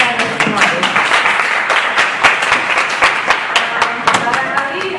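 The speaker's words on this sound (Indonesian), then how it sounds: "Tepuk tangan untuk kalian semua ya." Audience applause at an indoor talk event, dense steady clapping from a sizeable crowd lasting throughout, close and lively.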